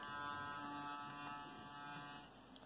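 An Oral-B iO 8 smart electric toothbrush hums with a steady, close electric buzz during brushing, holding a constant tone throughout with no speech over it.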